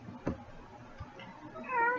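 A house cat meows indoors, a short faint call near the end of the clip over a quiet room with a couple of soft thumps earlier.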